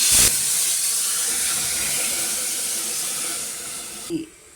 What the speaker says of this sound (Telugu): ఇలాగ షుగర్ మెల్ట్ అయ్యాక 3 కప్స్ వాటర్ వేస్తాము.